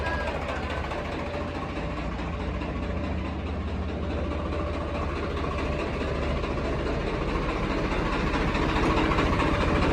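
A heavy Swaraj 855 tractor engine idles steadily throughout, a low continuous rumble that grows slightly louder toward the end.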